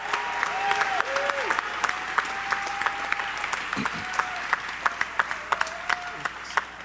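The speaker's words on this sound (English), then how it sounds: "Let's give Bill one more big round of applause for his tireless dedication to Young Storytellers." A crowd applauds steadily throughout, with scattered louder individual claps standing out near the end.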